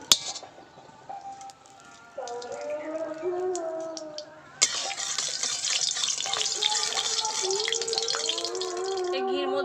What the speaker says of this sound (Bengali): এবার আর একটু ধুয়ে নেব ভালো জল দিয়ে